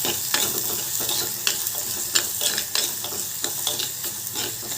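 Chopped onion and green chillies fry in a pan with a steady, close sizzle and crackle, while light clinks and scrapes of a spoon stirring recur throughout.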